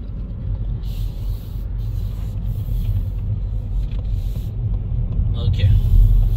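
Car accelerating along a motorway on-ramp during a French driving-test drive, a loud steady engine and road rumble that swells toward the end, with a person talking over it.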